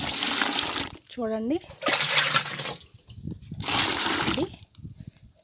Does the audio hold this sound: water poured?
yes